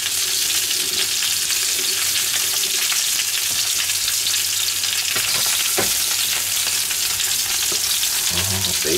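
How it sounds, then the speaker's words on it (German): Baked beans and sausages simmering and sizzling on a grill beside eggs Benedict, a dense, constant close frying hiss with a few faint clicks and no voices. "Jetzt fängt wieder zu köcheln an."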